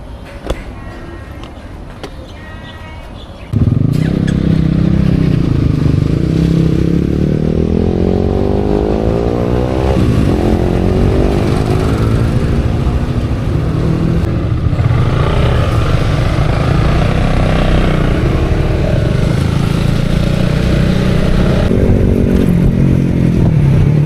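A motorcycle on a ride from Klang to Kangar starts off after a quiet moment, then roars continuously up close, the engine revving and climbing through gears with wind rush and rattling under the steady drone.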